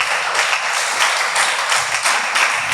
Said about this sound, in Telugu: చప్పట్లు కొడి ప్రభుని స్తుతించాలి